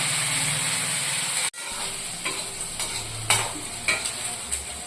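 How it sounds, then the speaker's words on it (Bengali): Potatoes fry in a pan with a steady loud sizzle and hiss, broken by a few scraping stirs and clinks of the utensil. "আর কিছুটা ভাজা হোক"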